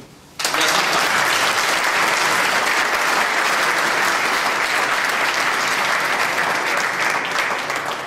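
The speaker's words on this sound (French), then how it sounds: "mais on peut déjà peut-être l'applaudir" Sustained applause from an audience at the inauguration of a new urban tanker-pump fire truck for Vernier's company 51, bursting in after a brief quiet moment and staying dense and even to the end.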